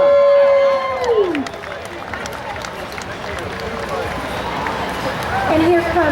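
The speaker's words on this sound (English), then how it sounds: "Give them a round of applause." At a rodeo parade a crowd cheers and claps in a steady broad wash of applause, with voices and babble mixed in and a few whistles rising above.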